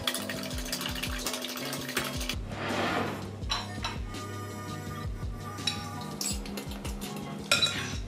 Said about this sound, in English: we're just going to whisk those up so it's easier to combine with the zucchini mix.